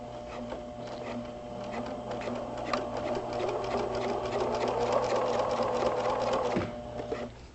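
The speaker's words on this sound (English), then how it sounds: "This welt cord is very thick, so there's really not any other way to get close enough to sew to it." A sewing machine fitted with a zipper foot stitches tight against thick welt cord for an upholstered headboard, running steadily and close for several seconds with a fast mechanical whir, then stopping briefly near the end.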